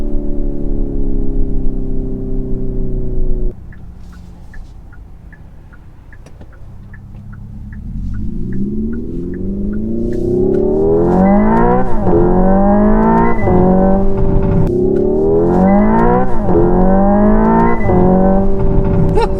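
Hyundai Ioniq 5 N electric car with simulated exhaust sound accelerating at full throttle from inside the cabin: a quiet lull, then a loud rising engine-like drone climbing through simulated gear shifts, each shift dropping the pitch before it climbs again.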